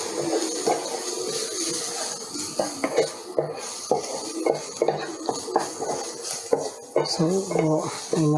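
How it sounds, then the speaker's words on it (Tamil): Masala being stirred and mixed in a pan for fish puttu, with repeated scraping and clinking of a utensil against the metal over a low, steady background, fairly close and continuous. "ஸோ நல்லா மிக்ஸ் பண்ணிக்கோங்க"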